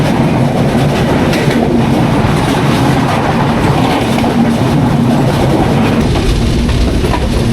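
The Jahanabad Express train rumbles steadily along the rails approaching Khulna station, a continuous loud roar with faint rhythmic clatter of wheels throughout.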